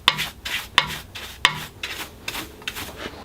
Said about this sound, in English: I use a little brush to make sure all of the sawdust is out of those grooves